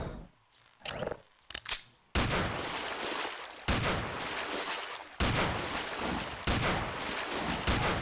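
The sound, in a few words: shooting an alien in the video game Half-Life: Opposing Force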